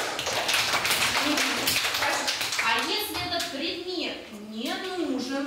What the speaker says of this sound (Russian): хлопаете в ладоши